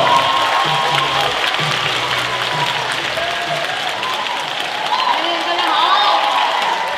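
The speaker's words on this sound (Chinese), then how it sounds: "让我们掌声有请小鹿" A live stand-up comedy audience applauds to welcome a performer, dense sustained clapping mixed with a crowd murmur and scattered voices.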